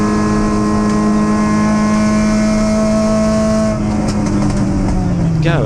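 MG race cars on the last lap at PI in October, engines droning loud and close with a steady high whine that drops in pitch near the end as a car pulls away.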